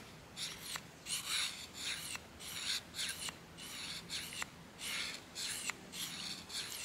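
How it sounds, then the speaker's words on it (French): A knife drawn across a fine-grit sharpening stone in steady rhythmic strokes, about ten raspy scraping passes close to the mic, with brief pauses between them and no voices. "je passe à la pierre grain fin et je refais la même chose"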